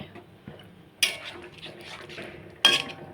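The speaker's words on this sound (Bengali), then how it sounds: "নাড়িয়ে দিয়ে একটু ফুটিয়ে নেওয়া হবে," Doi katla, a yogurt fish curry, stirred in a metal pot, with two sharp clanks of the spoon against the pot over quiet scraping and a low simmer, close by, with no talking.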